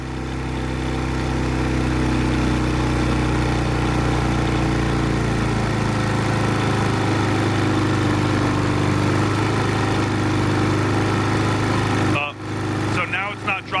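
Predator 3500 portable generator engine running steadily at close range, a dense constant drone whose pitch sags slightly as RPM drops, then a short disturbance of clicks and handling noise near the end.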